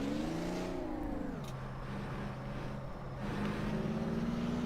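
Kenworth 521 truck in American Truck Simulator, the engine droning steadily with pitch rising and falling as it revs, a continuous close mechanical hum with no talking.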